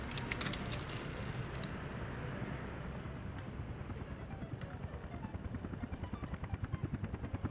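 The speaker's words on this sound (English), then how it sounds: "we're getting construction assisted with helicopters" Helicopters in the city-building game Workers & Resources beat with a rhythmic thudding rotor that grows more distinct and pulsing, with a brief high metallic jingle at the start.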